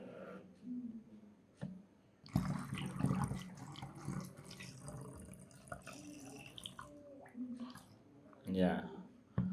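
Water pours into a glass Helmholtz resonator flask, a gurgling, splashing trickle that fills most of the stretch under a person talking, with a few drips and bubbly swells toward the end.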